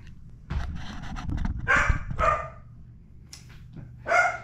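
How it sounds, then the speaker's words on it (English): A pet dog barks several times in a home kitchen, a few sharp barks in close succession, a pause, then another loud bark near the microphone, with no talk over it. "that's my dog"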